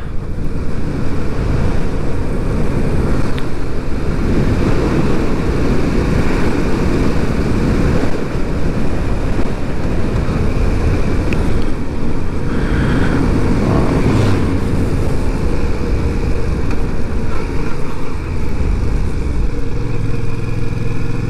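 A motorcycle ridden on roads in Switzerland, heard as a loud continuous engine drone mixed with heavy wind rush against the microphone, steady throughout with no talking.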